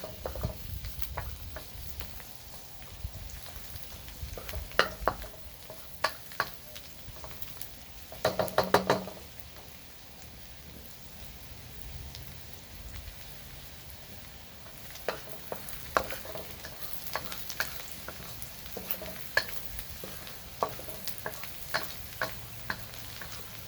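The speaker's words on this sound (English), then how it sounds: "Add in our garlic. So we'll cook this until it's nice and fragrant." Garlic fries in melted butter in a pan with a soft, steady sizzle, broken by scattered clicks and knocks of a utensil stirring against the cookware.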